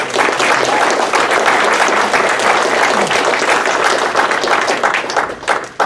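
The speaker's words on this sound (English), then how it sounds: "if I could get a round of applause for all my teammates" A Hall of Honor induction audience applauds the inductee's teammates, dense sustained clapping from many hands filling the room, steady and loud before tapering off at the end.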